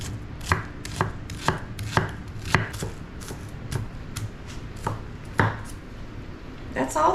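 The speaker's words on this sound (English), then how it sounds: "Then you should just be able to slice the onion." Knife slicing an onion on a cutting board: steady, evenly spaced chops, about a dozen crisp thuds, close and clear with no talking.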